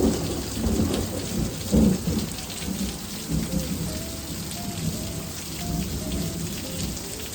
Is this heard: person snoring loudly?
no